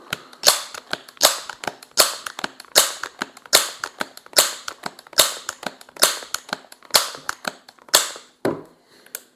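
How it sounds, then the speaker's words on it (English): Repeated shots from a Crosman 1300 Medalist .22 multi-stroke pneumatic air pistol, sharp close cracks recurring at a steady pace among rapid clicking pump strokes, with a final rattling pump at the end. "We'll do a couple of shots at each power level."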